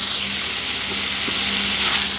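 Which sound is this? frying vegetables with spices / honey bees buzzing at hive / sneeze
frying vegetables with spices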